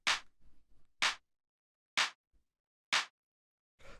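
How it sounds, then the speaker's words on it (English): A punchy clap sample from a minimal house track, played alone four times with even gaps of about a second, each hit sharp and bright with a quick decay. "The next sound that we have here is the clap"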